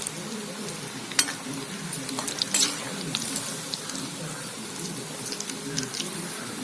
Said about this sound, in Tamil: இப்படி டைரெக்டாக எண்ணெயில் போட்டுட்டோம். இது நல்லா மொறுமொறுன்னு வரும்.